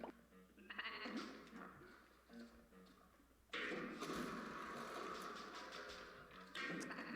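Sheep in the puzzle video game Escape Plan let out several quavering bleats in sequence, moderately close, over soft background music and game sounds, with no voices.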